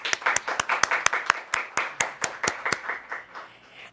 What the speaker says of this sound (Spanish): pido un fuerte aplauso a todos los que estamos en el set